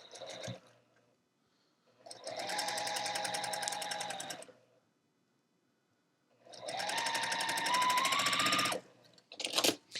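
Sewing machine stitching a quilt block: two steady runs of rapid, even needle chatter, each a couple of seconds long, separated by quiet pauses, close and clear with a few handling knocks.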